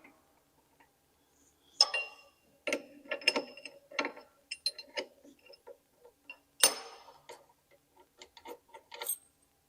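Tool swap on an MR-1 CNC mill, changing to a 1/4 inch two-flute chamfer bit: quiet, close clicks, ratcheting ticks and small metallic knocks in irregular bursts, with brief pauses between them.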